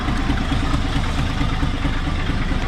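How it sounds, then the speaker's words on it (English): An 1980s Mercury station wagon idling cold with a nasty exhaust leak, a loud, steady, close rumbling drone with a rough, raspy pulse and no voices. "That exhaust leak's pretty nasty sounding when it's cold"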